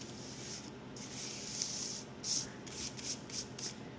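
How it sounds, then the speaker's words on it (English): Rice flour rubbed and spread by hand around the inside of a sourdough banneton gives a soft, close, continuous brushing hiss, with a few brief louder swipes near the end. "I'm just gonna spread around the rice flour"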